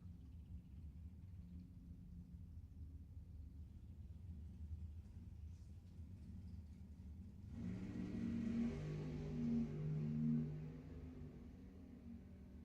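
A dragster and a 1969 Camaro race at Lebanon Valley Dragway, starting as a distant engine rumble that swells into a loud, roaring pass partway through before easing off.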